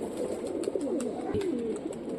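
Rajshahi Giribaz pigeons cooing close by, a run of soft, low warbling coos repeating through the short stretch, with light rustling around them.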